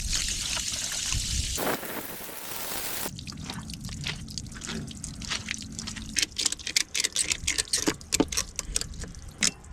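Water trickles and drips into an old 50-year-old bass boat from a leaking live well, with steady dribbling and scattered close drips over a low background wash.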